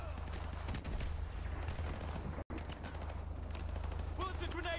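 Dense, continuous gunfire and blasts from Call of Duty: Modern Warfare, heard as loud, steady rattling bursts throughout with a brief dropout midway and a voice talking over the action.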